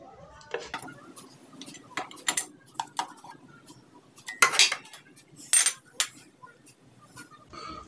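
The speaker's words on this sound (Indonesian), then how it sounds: "Lalu kencangkan pakai kunci." Metal clinks and taps of a wrench tightening the radiator cap on a Yamaha Jupiter MX motorcycle, several short sharp clicks scattered in an irregular rhythm, close and fairly quiet.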